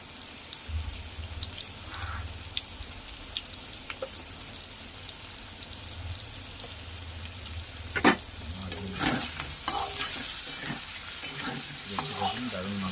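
Meat with salt and turmeric stirring and frying in a pan, a steady loud sizzle throughout with scraping stirs and clatter growing busier toward the end.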